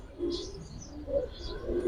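Jelly pigeons cooing, a few soft throaty coos and brief chirps in short pulses, close but fairly quiet, with faint voices nearby.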